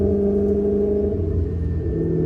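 A V8-swapped right-hand-drive BMW E30 engine drones low and steady through a downshift, its pitch shifting slightly as the revs change, heard from inside the car.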